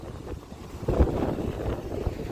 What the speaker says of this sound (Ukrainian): тут вітер